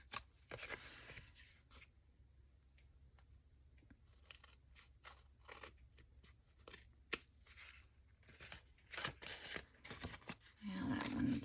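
Scissors cut through paper in a series of close, crisp crunching snips at irregular intervals, quiet between cuts, with rustling at the end.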